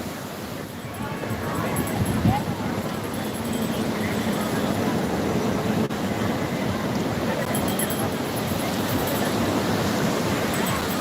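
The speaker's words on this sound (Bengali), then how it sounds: "প্রচণ্ড ঢেউ উঠছে" Strong sea waves roll in at Puri beach, a loud, continuous broadband roar of surf mixed with wind buffeting the microphone, with faint sounds of a busy beachside market beneath.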